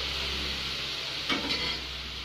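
Mysore pak mixture being stirred into hot, smoking ghee with cardamom powder, a steady close sizzle with a brief scraping swirl of the spoon midway, no talking.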